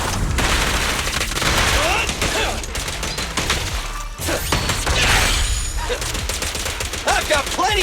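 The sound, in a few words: gunfire in the video game Zenless Zone Zero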